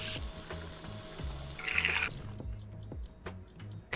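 Water runs steadily from a tap in the Cooking Simulator kitchen for about two seconds, then cuts off, leaving faint dripping and small clinks.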